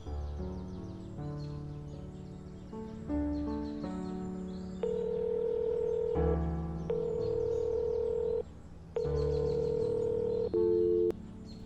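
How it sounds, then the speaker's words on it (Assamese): A series of sustained electronic telephone tones, steady beeps that shift pitch in blocks, like a line dialing and ringing, from a call to a switched-off phone. "মই তাহাঁতলৈকে ফোন এটা লগাই লওঁ"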